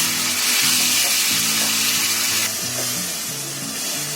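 Grated tomatoes, four of them, tipped onto onions already fried for a prawn biryani, giving a loud, dense, continuous sizzle close by with no talk over it.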